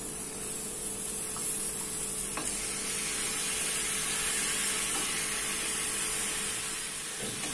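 Half a kilo of washed chicken goes into an ALPXEL frypan for pepper chicken, setting off a loud, steady sizzle and hiss that fills the whole stretch, with a few faint clinks of a utensil.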